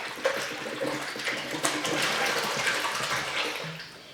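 Water poured from a bottle into a container during a children's activity, a continuous splashing trickle that runs steadily for several seconds at close range with no talk.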